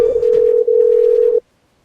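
A steady telephone tone plays loud and close while a call is dialed to an office line, holding unbroken for over a second before cutting off abruptly into silence.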